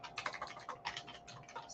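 A survey name is typed on a computer keyboard in quick, light, irregular clicks, close by and soft, with no voices.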